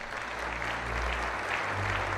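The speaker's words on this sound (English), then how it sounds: "A round of applause, please." Steady, dense clapping from a video game theatre crowd fills the whole stretch, loud and continuous with a low rumble beneath it.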